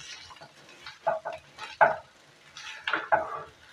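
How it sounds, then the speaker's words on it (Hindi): Potato mixture stir-fried in a pan until brown for aloo pakoras, with a spoon scraping and tossing in short bursts of scratchy clatter, moderately close and fairly quiet. "ये ब्राउन होने तक हम इसको अच्छी तरह से भूनेंगे।"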